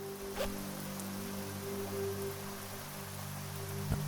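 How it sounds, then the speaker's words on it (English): Rain falls in the turn-based zombie survival game Terminus: Zombie Survivals, a faint, steady hiss of drops with soft sustained tones underneath and a couple of brief taps. "Now it's raining."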